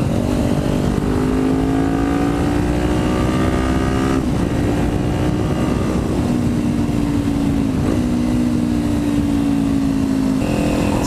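A Kawasaki Ninja 400 motorcycle with an aftermarket exhaust rumbles loudly and steadily with a deep exhaust note, its pitch rising and falling as the rider revs and shifts through the gears.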